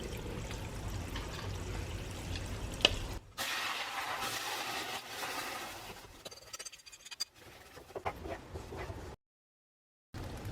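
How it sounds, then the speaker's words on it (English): Semolina mixture poured slowly into browned caramelised sugar in a pan gives a soft, steady liquid sizzle and pour, quiet and close, broken by brief pauses and gaps of silence. "When the sugar turns brown like this, we need to slowly add in the semolina mixture."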